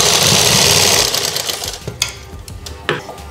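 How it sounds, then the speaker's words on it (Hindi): Sewing machine stitching a folded strip onto a kurti sleeve, loud and close for about a second, then slowing into scattered clicks and short bursts as the fabric is handled. "इस पट्टी को इस तरह से फोल्ड करके इसके ऊपर लगा देंगे और बिल्कुल हम इसके किनारे पर सिलाई लगाएंगे।"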